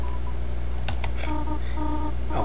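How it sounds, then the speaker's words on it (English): Short electronic phone tones from an incoming call in the video game Deltarune: a few clipped synthetic beeps followed by a brighter chirping melody, playing alone over a steady low game hum. "Oh, excuse me, I seem to be receiving a phone call."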